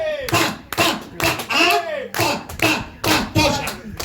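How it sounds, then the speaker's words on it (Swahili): An audience claps at a community gathering in bursts of rhythmic, close clapping, mixed with voices calling out. "Haya, tunawapigia makofi."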